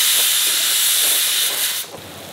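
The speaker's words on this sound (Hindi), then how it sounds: "सांभर की सब्जियाँ बॉईल हो रही हैं" Sambhar vegetables boil in a home kitchen with a steady, loud steamy hiss that holds evenly, then drops abruptly in level near the end.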